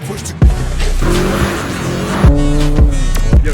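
A 300hp Stage 1 Subaru STI drifts in snow, its engine revving hard and close with rising and falling pitch and repeated sharp bursts as the throttle is worked, with no talking.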